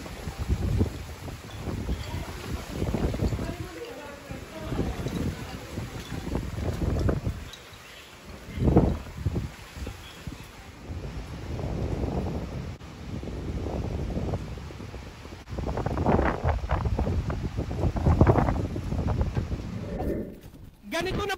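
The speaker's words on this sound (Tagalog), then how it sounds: "Ganito na po kalakas yung hangin dito po sa Rojas Boulevard sa lungsod ng Maynila." Strong wind roaring along Roxas Boulevard in Manila during Typhoon Uwan, buffeting the microphone in continuous gusts that swell and ease over about twenty seconds, with faint voices in the background.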